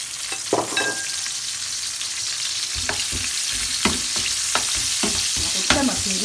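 Onions fry in a pot for a clam dish, a soft steady sizzle punctuated by several distinct scraping stirs at irregular intervals, close by and without speech.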